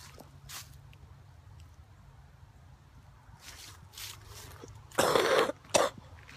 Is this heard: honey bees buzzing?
no